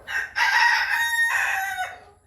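A rooster of a large Turkish-origin chicken breed crows nearby in Cumilla, one full cock-a-doodle-doo with a long, bright middle section that fades out at the end, with no voices.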